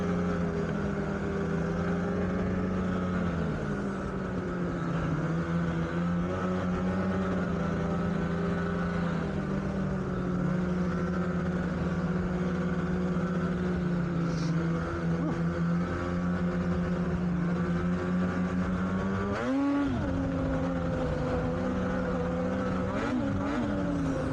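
A trail vehicle engine runs close and loud at a steady drone, the pitch swelling and dipping with throttle changes and rising in a sharper rev near the end.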